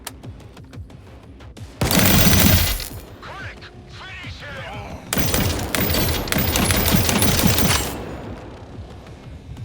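Rapid bursts of video game gunfire aimed at an enemy protected by a force field, loud sustained volleys around two seconds in and again from about five to eight seconds, with quieter game sounds and chirps between them.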